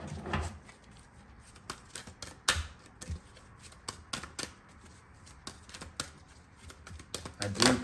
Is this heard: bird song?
no